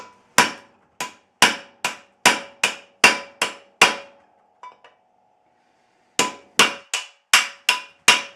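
Heavy hammer blows on the hub and rotor of a 1976 Jeep Cherokee during a repair. The strikes are sharp and ringing, coming in a steady series, then a short pause with faint taps, then another run of loud blows.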